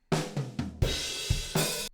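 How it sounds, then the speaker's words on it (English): Dry, close-miked drum kit playing a short groove of punchy kick and snare hits with a crash cymbal. Several sharp, loud strikes, with little room ambience. "but here's the kit just dry mic'd."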